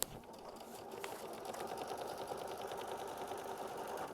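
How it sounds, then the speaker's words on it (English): A sewing machine runs steadily, tack-down stitching a quilt block with a continuous, even whir of rapid needle strokes at close range for the whole stretch, with no talk. "we are going to tack down with machine stitch step 9"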